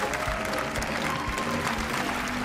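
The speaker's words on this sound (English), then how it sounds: "Big applause, Jonathan." A studio audience at a magic show applauds after a knot trick with handkerchiefs, a full, loud burst of crowd clapping with a few low thumps, sustained evenly across the moment.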